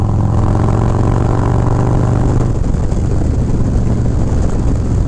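A Harley-Davidson Low Rider S with a 122 Screaming Eagle stage 3 engine cruising in sixth gear around 70, a loud, steady engine drone mixed with wind rush that holds constant throughout, no voices.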